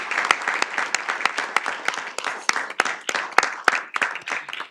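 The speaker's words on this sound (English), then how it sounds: "So let's give them a big round of applause." An audience at a council meeting applauds volunteers, crisp individual hand claps standing out sharply above a steady bed of clapping that runs through to the end.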